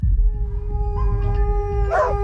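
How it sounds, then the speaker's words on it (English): Dogs howling: a long sustained tonal howl runs through, joined by rising overlapping howls near the end, close and clear over a low rumbling background. "Dogs howl constantly."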